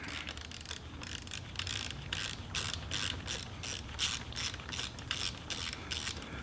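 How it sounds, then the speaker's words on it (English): A 1/4-inch ratchet with a 10mm socket on a wobble extension spins out a bolt on a WR250R motorcycle, giving fast, steady ratcheting clicks that run quietly and continuously throughout. "I'm using one of those extensions that gives me a little wobble on the socket on a 1/4" ratchet with a 10mm socket"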